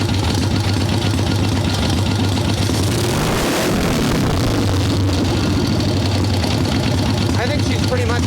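A swap meet chopper motorcycle engine fitted with a Mikuni carburetor runs steadily close by, a loud continuous idle with a brief throttle blip in the middle.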